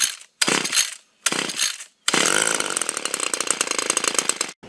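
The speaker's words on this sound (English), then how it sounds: "so now I know it works. Okay, it starts, it runs, we gotta get it fine-tuned" A Stihl FS56 string trimmer engine is pull-started in two short bursts that sputter out, then catches and runs loud and steady at close range with a buzzy, revving two-stroke drone.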